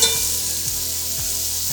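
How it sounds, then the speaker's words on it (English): Onions sauté in a pot for beef stew, giving a continuous, fairly loud sizzle with soft stirring scrapes now and then and no voices. "All I'm looking for on the onions is for them to get translucent, which they're doing pretty quickly here."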